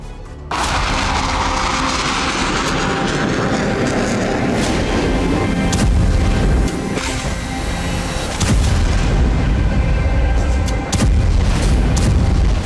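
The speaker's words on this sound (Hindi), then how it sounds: "ग्राउंड ऑपरेशन के 5वें फेज में इजराइल ने टैंक तोपों के साथ साथ ड्रोन और मिसाइलों से भी प्रहार शुरू कर दिए हैं।" Israeli tank cannon fire with drone and missile strikes in the Gaza Strip, heard as a dense, continuous roar of heavy booms and blasts with several sharp, loud impacts standing out, and no voices.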